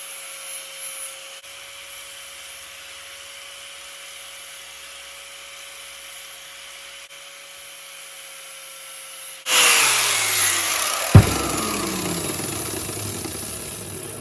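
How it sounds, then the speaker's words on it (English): A power tool bites into a Jeep JK shifter bezel for an 8-speed Hemi swap, cutting a 45-degree bevel: a steady hum gives way to a loud, harsh grinding burst near the end, with a sharp clack as it digs in. "Probably help if I did a 45-degree bevel on this side"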